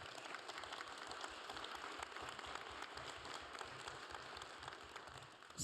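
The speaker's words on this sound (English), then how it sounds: "A small applause for them, please" A conference audience claps for the speakers at a special session on the space industry, a dense, steady applause of many hands lasting several seconds at a moderate level.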